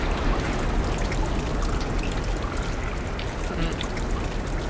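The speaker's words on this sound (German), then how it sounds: "Das steigende Wasser, stimmt!" Rising water in the video game Limbo gives a steady, dense pouring and trickling wash, continuous and moderately loud throughout with no breaks.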